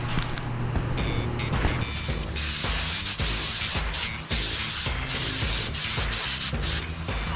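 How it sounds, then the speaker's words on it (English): A paint spray gun applies epoxy primer to a Ford F150 front bumper, a steady close hiss broken by short pauses between passes. "So I've got it in the gun. I'm just going to mask up and give this a couple of coats of epoxy."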